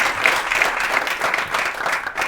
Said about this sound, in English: let's have a big round of applause for Adrien Roose, the CEO